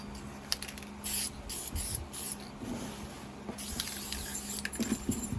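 Short hissing bursts of a sputtering spray paint can come in several pulses close by, separated by brief pauses, with faint rattling.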